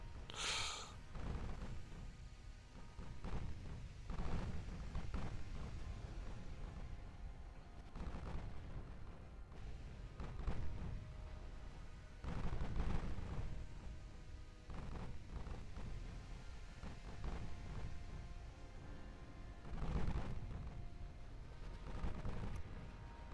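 Naval guns boom in the video game Ultimate Admiral Dreadnoughts, with repeated muffled, distant-sounding blasts and rumbling explosions rolling over a steady low roar, fairly quiet throughout.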